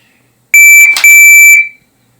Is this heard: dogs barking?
no